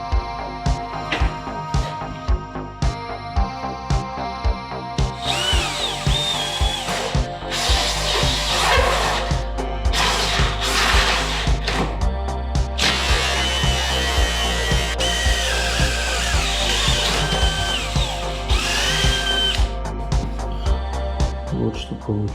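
A power drill on first speed bores into wood, giving a steady close whine and grinding that rises and falls in long sustained runs, with a voice talking at points over it.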